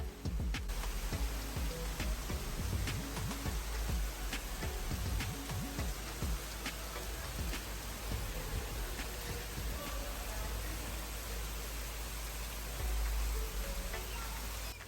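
Heavy rain falls during hurricane season in Jamaica. A dense, steady hiss of downpour runs throughout with close drips and splashes on surfaces, and a voice talks faintly underneath.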